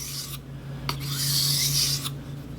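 Steel knife blade stroked across a Japanese whetstone, a steady close-up rasping scrape in long strokes with brief pauses between passes, no voices.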